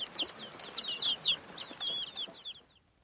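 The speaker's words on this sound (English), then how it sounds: "and fluffy chicks" Fluffy chicks cheep in a quick series of shrill, high peeps, several bright chirps clustered close together before fading out near the end.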